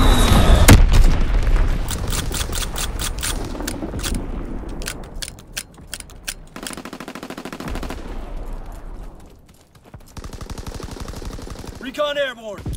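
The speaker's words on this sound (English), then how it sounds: "Mortar shot out." Mortar fire in a video game: a sharp launch thump near the start followed by booming blasts and clattering gunfire, with mechanical clicks and a brief voice.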